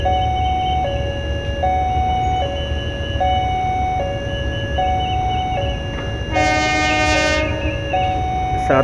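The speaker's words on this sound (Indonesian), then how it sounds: "lokomotif CC201 dengan satu gerbongnya. Yang sudah berada di area stasiun" A CC201 diesel locomotive pulling one carriage rumbles into a station on a morning near Kiaracondong, with a steady two-tone warning chime alternating throughout and then a loud blast of the horn near the end.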